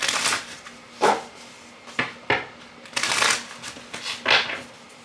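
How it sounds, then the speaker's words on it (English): Tarot cards being shuffled close up in several quick riffling bursts separated by short pauses, crisp papery flutters with no talking. "give it a quick shuffle"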